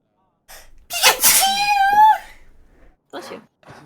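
A single loud, close sneeze with a sharp gasping intake and burst, followed by brief murmured voices.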